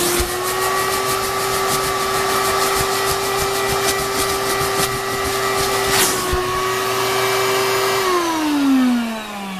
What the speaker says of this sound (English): So then you turn on the vacuum cleaner